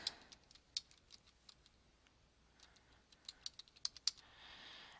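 Keys tapped on a computer keyboard, quiet irregular clicks in short bursts with pauses, alone with no voices.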